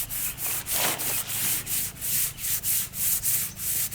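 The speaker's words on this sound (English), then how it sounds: "I'm going to sand with some 220 grit sandpaper to make sure everything's nice and flat" A solid wood dresser is hand-sanded with 220 grit sandpaper in quick, even back-and-forth strokes, about ten rhythmic rasping swishes, close and clear with no voices.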